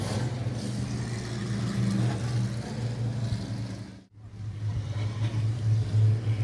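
A sport modified race car engine at Raceway Park drones steadily with a low, throbbing rumble from some distance, briefly dipping before rising again.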